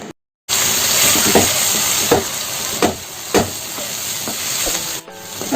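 A thick mutton kurma masala of coriander, turmeric and pepper powders sizzles steadily in a hot pan while a spoon scrapes and stirs it in periodic strokes, close and constant after a brief opening silence.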